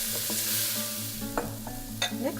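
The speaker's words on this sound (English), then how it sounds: "We're now ready to stir in our split peas." Split peas get stirred into a sizzling spiced pan for lemon quinoa, a steady close frying hiss broken by a few sharp scrapes and clinks of the spoon.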